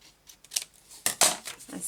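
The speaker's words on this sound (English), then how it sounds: "and snipping it off like this." Scissors snipping off a punched paper edge: a few quick crisp snips and papery rustles, close and soft, the louder cuts bunched toward the end.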